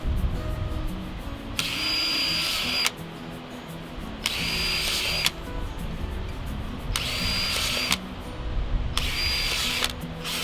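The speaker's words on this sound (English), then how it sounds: "Now I'm going to go ahead and drill those holes." A power drill with a 15/64 bit bores holes into PVC pipe for a strawberry planter, four loud whining bursts of a few seconds each, evenly spaced with brief pauses and low background noise between, close by with no talk.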